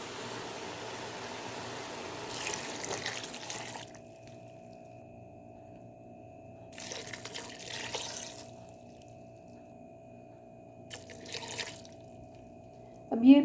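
Water is poured from a glass into a mutton karahi pot in three separate splashing bursts, about two and a half glassfuls in all, against a low steady kitchen hum.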